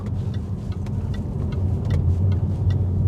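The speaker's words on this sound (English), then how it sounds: "this car sounds epic going through that part of the road, and it's all down to that XKR back box" A Jaguar XK X150 fitted with an XKR rear exhaust box drives along a road, its engine note a steady low rumble that swells slightly as it passes, no voices over it.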